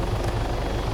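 A helicopter in the military simulator game Arma 3 gives a steady, close, loud rotor thrum with a rhythmic low beating and engine whine, with no voices.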